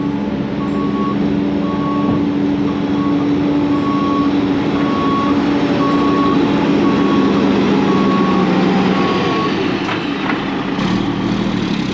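A work truck, due for a new bed, drives steadily across a road with a loud, continuous engine rumble throughout, while an intermittent reversing-style beep pulses in the background.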